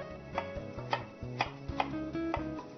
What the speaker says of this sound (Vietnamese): Ớt sừng chúng ta thái lát.